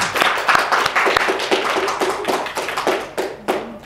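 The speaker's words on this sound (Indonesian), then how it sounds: "Tepuk tangan." A small group in a classroom literature-writing session claps hands, with distinct, fairly close claps in a loose irregular rhythm for a few seconds.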